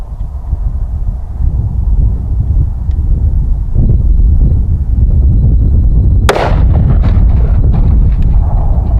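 A single sharp 5.56 NATO green tip rifle shot fired in a penetration test, loud and cracking outdoors over heavy wind rumble, followed by a brief echoing tail.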